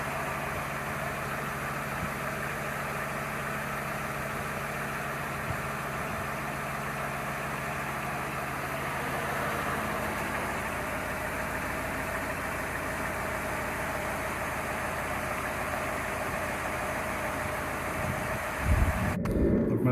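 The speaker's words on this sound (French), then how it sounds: "on va laisser chauffer le moteur" Cadillac Seville STS engine idling steadily while warming up during a 4T80-E transmission service, a continuous even hum with a low drone, ending in a brief handling bump near the close, no talking.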